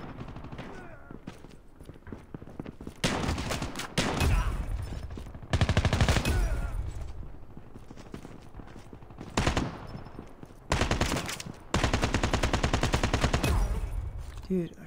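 Rapid automatic gunfire from a PDW in the mobile shooter Call of Duty Mobile, gun game mode, with several loud sustained bursts separated by short pauses.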